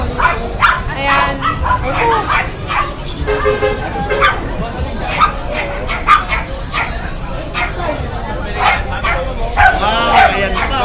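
A three-and-a-half-month-old male Pomeranian puppy at a pet market yips and barks repeatedly in sharp, high bursts under a vendor's steady talk, with other dogs whimpering nearby and a vehicle horn tooting in the busy background.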